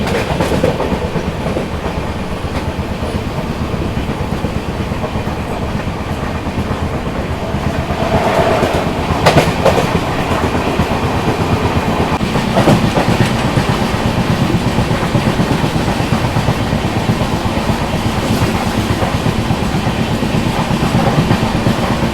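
The Kanyakumari Pune Express runs at speed, a steady rolling rumble with rhythmic clickety-clack of the wheels over the rail joints, heard from inside the coach for a sustained stretch with occasional sharper rattles and no talking.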